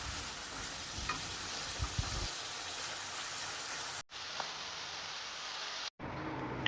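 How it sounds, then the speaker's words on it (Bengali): Prawns fry in oil with a continuous hissing sizzle that stays fairly even and moderately loud, heard close with no talk, and the sound cuts out briefly twice. "চিংড়ি মাছগুলো ভালো করে তেলে ভেজে নিই"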